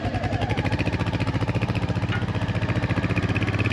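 Royal Enfield Hunter 350 motorcycle single-cylinder engine thumping steadily nearby, a loud rhythmic low pulse holding an even beat as it pulls away.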